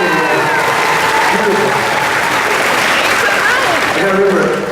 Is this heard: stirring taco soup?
no